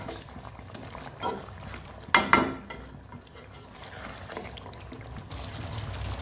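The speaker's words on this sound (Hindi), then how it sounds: "ये देखिए 1/2 कप हमने यहाँ पर दही डालना है, अच्छे तरीके से मिक्स कर लेना है" Half a cup of yogurt poured into a simmering beef karahi, a brief wet plop and glug standing out over the steady low bubbling of the pan.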